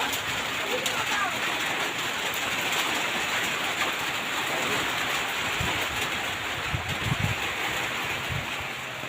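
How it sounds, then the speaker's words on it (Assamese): Steady rain pours down in a dense, continuous hiss, with some low gusty rumble underneath and a few faint thumps. "এইফালে চাওক কিমান বৰষুণ।"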